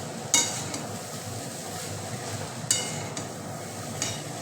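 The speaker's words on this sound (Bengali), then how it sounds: "এটাকে নাড়াচাড়া করবো কিছুক্ষণ।" Veg chowmein with salt tossed in a pan, a quiet sizzle broken by three sharp utensil scrapes spaced apart.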